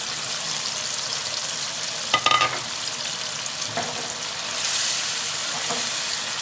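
Boiled beef sizzles and fries with softened, mashed tomatoes in a pot for beef matar pulao, a steady close hiss with a few brief stirring scrapes and clinks and no talk.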